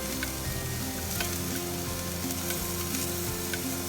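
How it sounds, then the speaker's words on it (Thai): Tofu stir-frying with ginger in a hot pan, a loud continuous sizzle with occasional faint stirring clicks throughout. "ผัดให้มันหอมนะคะ ใส่ขิงเลยค่ะพี่น้อง ใส่ขิงลงไปเลยนะคะ"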